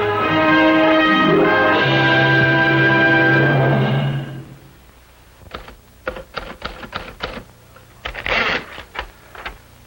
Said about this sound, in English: That's a good typing exercise, but a little thin on plot.